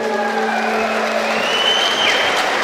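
Audience applause and cheering for the late singer at an Expo show, a dense steady wash of clapping filling the space, with a sustained musical tone underneath and no talk.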